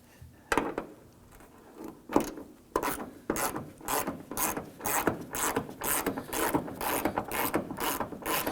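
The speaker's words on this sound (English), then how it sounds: "Our next step is to go ahead and remove the two nuts on these studs the rest of the way." A ratchet clicks rapidly in repeated strokes while removing nuts from the hood hinge studs of a 2015-2020 Ford F-150, close and loud, settling into a steady back-and-forth rhythm.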